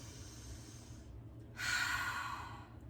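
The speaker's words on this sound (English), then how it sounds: "take a deep breath" A deep breath taken in a children's calm-down exercise, heard as a long, loud breathy exhale or sigh that follows a steady quieter airy breath.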